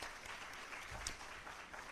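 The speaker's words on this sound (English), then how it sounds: "Can we give them a round of applause" An audience at an environmental awards ceremony applauds a panel of judges, a soft, distant, steady wash of many hands clapping with no voices over it.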